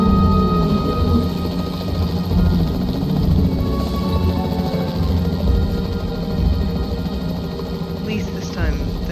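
Capture team helicopter in the Jurassic World video game, a loud steady rotor drone with engine hum running throughout.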